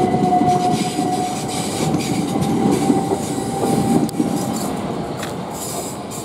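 A Southern class passenger train pulls out of Clapham Junction with loud rolling rumble and rhythmic wheel clatter, plus a brief squeal, close by and steady, with the sound easing slightly near the end.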